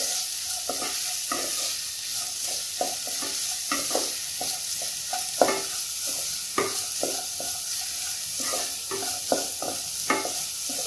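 Finely chopped onions, two of them, sizzle and fry in a pan while a spatula scrapes and stirs them in an irregular rhythm of soft taps and scrapes over a steady hiss, close and moderately quiet.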